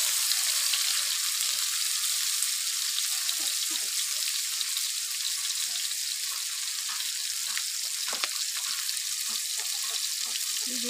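Chopped onion, tomato and papaya fry in mustard oil with a loud, steady, hissing sizzle that runs unbroken throughout, with occasional small crackles and pops.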